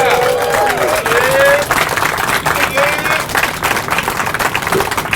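Audience applause and cheering at an outdoor plaque dedication honoring public safety personnel, a sustained burst of clapping with voices mixed in, loud and steady throughout.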